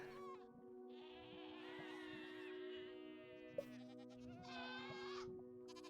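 Goat horn from Minecraft 1.19 sounding as a long, sustained, reedy horn blast, then a brief break and a second shorter blast, clear and up close with no talking.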